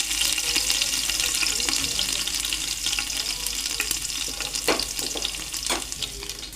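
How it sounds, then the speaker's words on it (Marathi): Cumin and mustard seeds frying in hot oil in a pan, a loud close steady sizzle with crackling pops and occasional stirring scrapes, no voices over it. "आधी तेल टाकले, नंतर जिरे मोहरी वगैरे टाकले."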